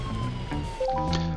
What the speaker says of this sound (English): the ambulance is on its way to the back home because there's been an accident